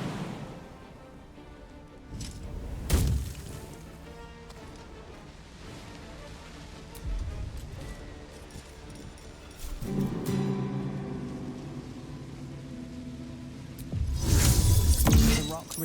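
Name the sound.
rock being struck, resisting shattering, in Baldur's Gate 3 video game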